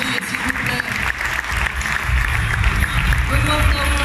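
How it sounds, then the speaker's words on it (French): Audience applause for the winners at the 13th Jean Delaveyne trophy event in Bougival, a broad wash of clapping that swells and grows louder through the clip, mixed with crowd noise and some voices. "on peut les applaudir, s'il vous plaît"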